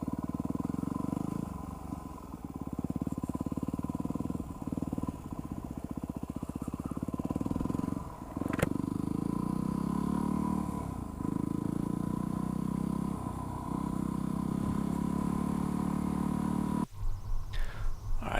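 A motorcycle engine drones steadily with throttle swells as the rider practices clutch-up wheelies, close and sustained for many seconds before ending in a burst of choppy clattering revs.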